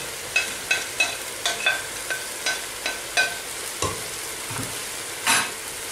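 Potatoes frying in a pot of Algerian-style lentils as they are stirred, giving a run of regular scraping stirs over a steady sizzle, with a heavier clatter near the end; no one speaks.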